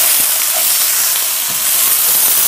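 Vegetables for fajitas sizzle loudly in a hot pan with a bright, constant hiss and crackle, close and uninterrupted, with faint stirring scrapes mixed in.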